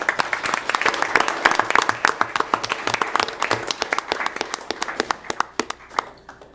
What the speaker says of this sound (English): can we give him one more round of applause?